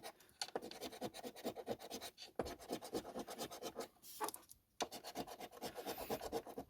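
Coin scraping across a lottery scratch-off ticket, with quick, rapid rasping strokes in bursts and brief pauses, close and fairly loud with no talking.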